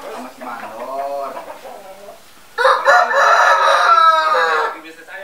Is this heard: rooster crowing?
yes